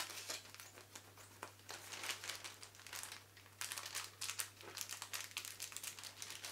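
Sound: scissors cutting plastic mushroom substrate and grain bags

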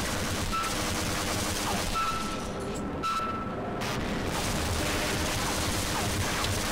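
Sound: gunfire shooting an alien in a video game

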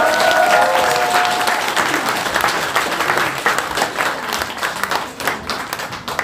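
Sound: crowd applause at campaign office opening

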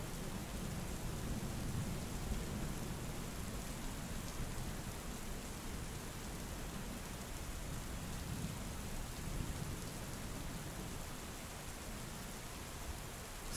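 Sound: driving rain and thunderstorm

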